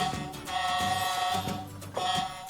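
A Smoby Bob the Builder toy truck sounds its electronic horn, a bright sustained tonal honk repeated twice with a short break between, close and moderately loud.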